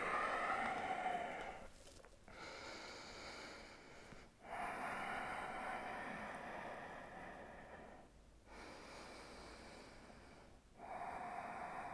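Slow, steady breathing close up, long airy inhales and exhales alternating with brief pauses, no talking.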